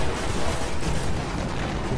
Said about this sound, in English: Explosions make the sky look pretty.